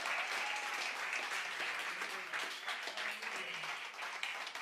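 A church congregation at a Friday night prayer service gives a loud round of applause for the basement ministry and its pastors; dense sustained clapping with some faint cheering or tonal voices mixed in, continuous for the whole stretch.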